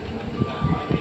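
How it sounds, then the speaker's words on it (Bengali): The Coromandel Express bound for Chennai at Shalimar station, giving a steady, close rail rumble with soft, uneven surges of wheel and carriage noise over about a second. "এই হলো করমন্ডল এক্সপ্রেস, স্টেশন শালিমার, চেন্নাইয়ের উদ্দেশ্যে রওনা।"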